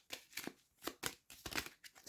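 Tarot cards being shuffled by hand in bursts of papery riffling and snapping, several quick rounds with short pauses between them, close and fairly loud with no talking.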